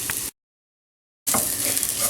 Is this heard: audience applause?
no